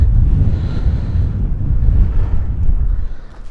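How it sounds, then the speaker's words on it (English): A strong gale blows across a beach, buffeting the microphone with a loud, continuous low roar and gusty rumble, no voices heard. "It's still blowing an absolute gale."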